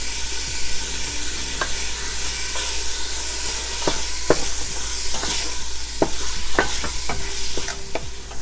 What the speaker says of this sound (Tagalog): Then just give it a stir. Next is our chicken.